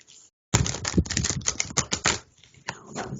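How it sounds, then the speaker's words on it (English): A deck of playing cards is riffled in one quick shuffle, a dense crisp flutter of about two seconds that follows a brief pause and trails off into light handling, close and clear with no talk. "Oh, that was a good shuffle."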